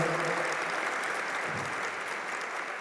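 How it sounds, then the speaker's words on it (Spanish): Sustained, dense applause from a large audience at an education conference lecture, steady and fairly loud throughout without any talking. "Un fuerte aplauso"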